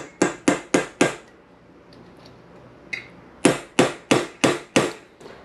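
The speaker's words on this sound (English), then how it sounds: "You get your punch and hammer and just tap it through." A hammer strikes a punch to tap a pin through a speargun shaft flopper, making sharp metallic blows in two quick rhythmic runs of about five hits each, separated by a quiet pause with one lighter tap.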